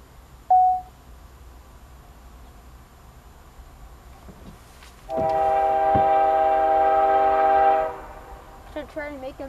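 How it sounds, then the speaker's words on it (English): A coal train at Shenandoah Junction sounds a long, loud, steady horn blast of about three seconds in the middle, after a brief earlier tone, over a quiet background rumble, with faint scattered sounds afterward. "Probably the same coal train as the other day."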